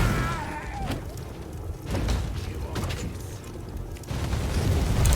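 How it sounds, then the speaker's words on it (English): Enemies blowing up in the Warhammer 40,000: Inquisitor video game, a few dull booming bursts and rumbles with sharp transient cracks over steady low game noise, no speech. "all of them ended up in a nice little explosion"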